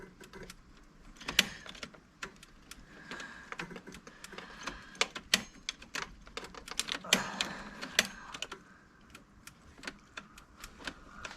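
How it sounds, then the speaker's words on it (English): A relay clicks repeatedly inside a barn-find BMW E9 3.0 CSi during its first start in over 20 years, giving a dense, irregular run of sharp, close mechanical ticks over a low background hum. "I can hear a relay clicking"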